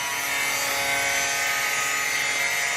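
A power tool trims a metal bracket inside a Dodge Ram pickup with the headliner removed, giving a steady, continuous high-pitched whine and grinding hiss that holds at a constant level throughout with no talk.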